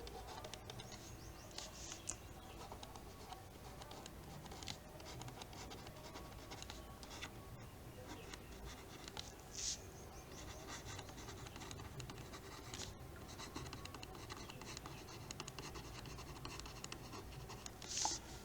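Chalk or marker scratches steadily across a board as a table is drawn up for a statistics lesson, with faint, close, continuous strokes and occasional taps and no speech.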